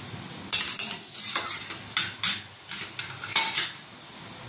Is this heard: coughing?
no